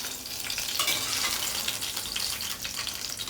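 Ingredients for a drumstick pickle fry in a pan until reddish, a steady hiss of oil with scattered crackles and stirring, close and unbroken, without talk.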